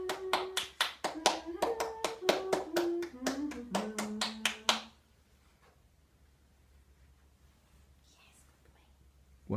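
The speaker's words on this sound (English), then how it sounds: "5 seconds while you clap your hands and hum." Hands clap about fifteen times in a quick, uneven run while a person hums a wandering tune along with them, then both stop and near silence follows.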